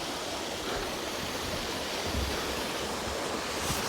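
A waterfall on a hiking trail pours in a continuous, dense roar heard at close range, a loud, even rush of water that never pauses, with no voices over it.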